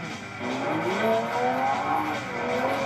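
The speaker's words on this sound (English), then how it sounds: "Rev up your engine!" A car engine revving, its pitch climbing and falling in several overlapping sweeps over steady road noise, moderately loud with no voices.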